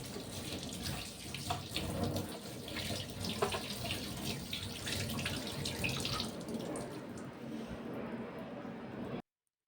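Tap water runs steadily into a sink during cleaning of the basin and hand-wash bottles, a continuous splashing stream at close range that cuts off abruptly near the end.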